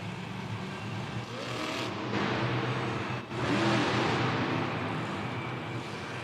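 A monster truck engine roars loud and close at a Monster Jam stadium event in Miami, a steady heavy rumble that dips briefly near the middle before surging back with a harder rev.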